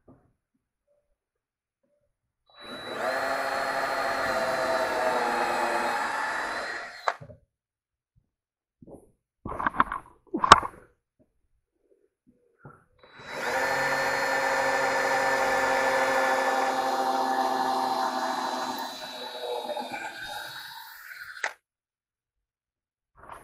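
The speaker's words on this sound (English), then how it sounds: "I like to pre-drill my holes" Power drill pre-drilling holes in pallet wood for a quail hutch, two steady whirring runs of several seconds each, separated by a pause with a few short clunks and knocks.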